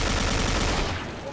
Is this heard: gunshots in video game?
yes